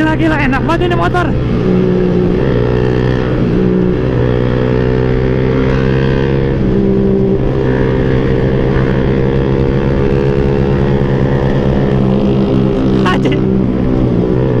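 A Suzuki Satria FU 150 underbone motorcycle droning steadily and close up while being ridden, with slight changes in engine pitch and a few brief sharp noises near the start and end.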